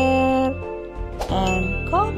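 A subscribe notification bell chimes as a bright, ringing ding with sustained tonal overtones, loud and close, followed by short rising electronic jingle tones.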